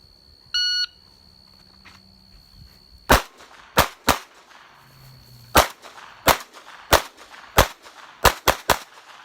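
Sharp pistol shots during a defensive drill, drawn from concealment and fired at targets: about ten loud, crisp reports spaced in an uneven rhythm, some in quick pairs, with a short electronic beep near the start.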